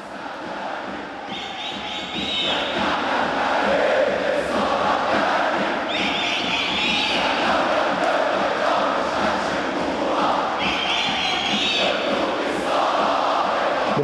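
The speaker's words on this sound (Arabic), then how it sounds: "بنحب نسمع ليه هتافاته قوي، هتافات منظمه ومحترمه، وهدفها الوحيد هو التشجيع بمثاليه" Al Ahly volleyball fans in an arena at an African club championship men's final, a loud, dense crowd roar with rhythmic organized chanting swelling in repeated waves, continuous throughout.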